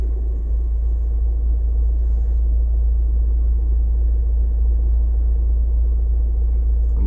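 A car stopped in neutral on a Paris boulevard idles with a steady, deep engine rumble that holds unchanged throughout, close and fairly loud, with no talk.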